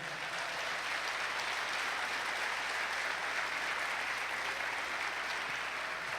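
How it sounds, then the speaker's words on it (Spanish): Congregation applause during a sermon, an even, sustained roar of many hands clapping at a moderate distance, continuous and unbroken with no speech over it. "Dele un fuerte aplauso al Señor."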